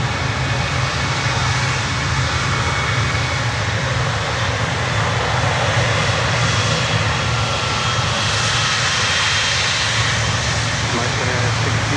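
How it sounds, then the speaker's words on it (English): A Qatar Cargo Boeing 777 departs at Miami, its broad, steady jet roar holding loud and continuous for the whole stretch, with voices talking over it. "And now Qatar Cargo 777."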